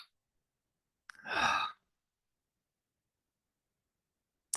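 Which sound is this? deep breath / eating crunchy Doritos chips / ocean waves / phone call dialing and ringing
deep breath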